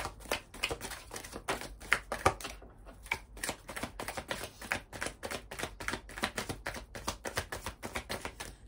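Oracle cards being shuffled and drawn, a long run of quick, crisp flicking taps in a fast, fairly even rhythm, close and fairly quiet, with a brief pause partway through.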